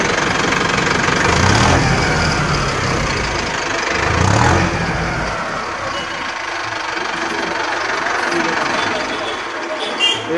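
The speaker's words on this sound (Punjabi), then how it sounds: "ਇੰਜਣ ਦੀ ਆਵਾਜ਼ ਸੁਣ ਸਕਦੇ ਹਾਂ ਟਰੈਕਟਰ ਦੀ।" Close by, the diesel engine of an Arjun Novo 650 4x4 tractor idles with a steady, knocking rumble while someone talks over it.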